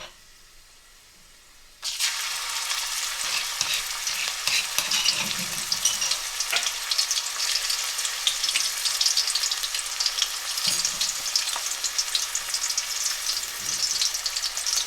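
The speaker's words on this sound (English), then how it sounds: "I'll give it a quick fry, and other spices will start going in after this." Ginger garlic paste, cardamom pods and two dry red chilies quick-frying in a pan over medium heat, a steady loud sizzle that bursts in after near-silence and carries on continuously with faint stirring knocks.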